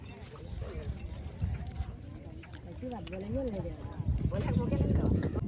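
Steady clip-clop of horse hooves from a horse cart on a road at Daman beach, mixed with traffic noise and voices talking nearby.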